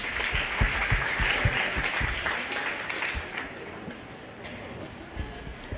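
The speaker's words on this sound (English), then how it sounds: "Go ahead and give Israel a round of applause" Scattered applause rises for a young goat exhibitor at a 4-H/FFA goat show, moderate clapping that thins and fades over a few seconds, with voices murmuring beneath.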